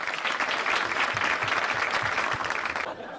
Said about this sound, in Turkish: Dahi bir alkışlayalım arkadaşlar.